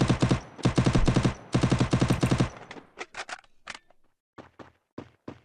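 Rapid automatic gunfire in a shooting video game: dense bursts of loud shots for the first two and a half seconds, then scattered shorter volleys trailing off, with no talk over it.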